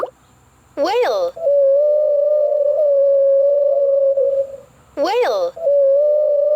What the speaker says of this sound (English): Whale.